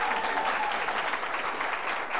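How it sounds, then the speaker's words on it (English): Steady studio audience applause on a TV game show, a dense even wash of clapping that holds throughout at moderate level with no voices over it. "Big round of applause for you."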